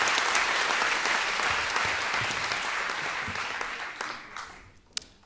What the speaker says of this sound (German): Und ihr klatscht bitte schön, bis er hier oben steht.